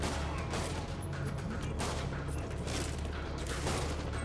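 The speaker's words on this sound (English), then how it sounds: "There's one person shooting at me," Enemy gunfire in the Spider-Man PS4 video game comes as a dense, continuous fusillade of shots and booms amid busy game action, steady and loud with no pauses.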